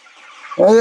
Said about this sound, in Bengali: সেই পড়ে যাওয়া মুরগি খাবারের জন্য দেখেন কি কিরকম ব্যাকুল হইতেছে। এই যে ঝগড়া করতেছে, ঝগড়া করে খায়।